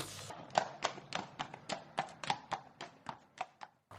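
Hooves clip-clop in a quick, uneven series of sharp knocks, about a dozen strikes, fairly faint and fading slightly toward the end.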